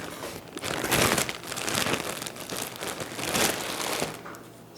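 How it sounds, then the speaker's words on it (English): Hands tear slices of plain butter bread into small pieces, giving close, continuous soft crinkling and tearing with a few louder bursts and no voices. "we're supposed to take 10 slices of bread and tear them into"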